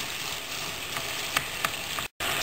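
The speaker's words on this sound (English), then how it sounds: "So adding a little broth, bubbles it up, and then you stir." Risotto with peas and onions bubbles and sizzles steadily in the pan after broth is added and stirred, a dense close crackle with a couple of sharper pops and a brief dropout near the end.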